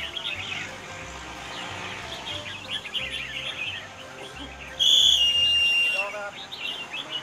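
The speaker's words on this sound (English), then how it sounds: "he's trying to coax his birds to sing more than 6 syllables this time" Songbirds at a bird singing contest, a crowd of chirps and tweets in the background, then a loud, piercing whistled note close by, with insect-like buzzing and faint chatter from people.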